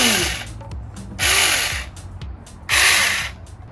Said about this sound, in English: It is a miniature chainsaw